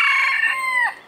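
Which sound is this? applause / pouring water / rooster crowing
rooster crowing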